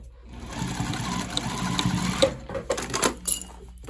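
A sewing machine stitches through a backpack in short bursts of rapid, close mechanical whirring, with brief pauses between runs and no talking over it.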